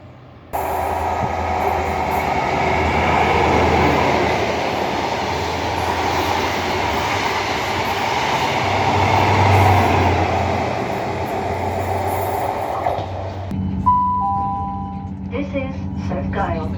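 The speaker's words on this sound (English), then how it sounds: "This train is for Edinburgh Waverley." Steady rumble and rattle of a train running along the tracks toward Edinburgh Waverley, with a chime and a voice announcement near the end.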